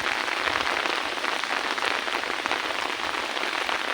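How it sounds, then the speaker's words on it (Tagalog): Heavy rain in Singapore pours steadily, a dense hiss of drops drumming on a surface, constant and close with no pauses. "Pag ganitong umuulan."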